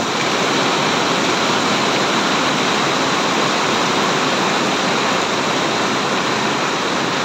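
Rushing floodwater pours over with a loud, steady roar, a dense continuous wash of noise that stays unbroken throughout with no voices over it.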